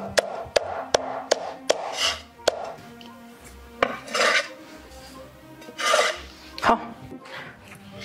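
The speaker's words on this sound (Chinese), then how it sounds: "我们来切点葱姜" Scallions and ginger being cut with a knife on a board, sharp distinct knife strikes in a quick run at first, then sparser taps mixed with scraping and handling noises, close and moderately loud.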